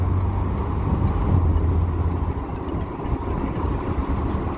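Ford Bronco engine droning while driving with the doors off, a steady low rumble mixed with road and wind noise, continuous and fairly loud throughout.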